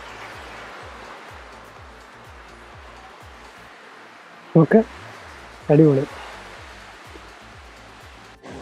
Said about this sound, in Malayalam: ഞാനും അതും കൂടെ കാട്ടിൽ കൂടെ ഒരു വെള്ളച്ചാട്ടത്തിന്റെ സൈഡിൽ കൂടെ നടക്കുകയാണല്ലോ.